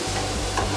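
A brief burst of tomatoes and tomato paste being stirred in a hot pan, a close, steady sizzle with a low hum beneath and a soft scrape of the spoon.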